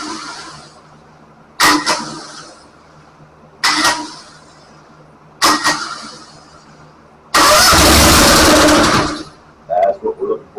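A Honda small engine fed by a portable carburetor on choke coughs and catches in several short bursts, then fires into a loud, ragged run for about two seconds before dying, with a few sputters after.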